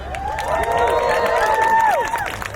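A loud crowd at an animal rights gathering in Los Angeles cheers, whoops and applauds the organizers, a dense, sustained wave of voices and clapping that swells and fades slightly.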